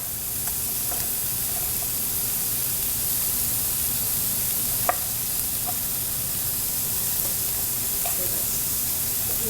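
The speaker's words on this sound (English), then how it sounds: "we'll add in our soy sauce and mix all the veggies together" Beef and vegetables stir-frying with soy sauce in a hot pan give a steady, close sizzle, broken by a few faint clicks of stirring, with no talk.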